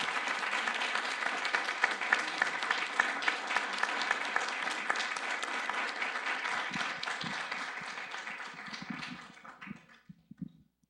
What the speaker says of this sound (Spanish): Le agradecemos muchísimo su presentación y le damos un aplauso fuerte.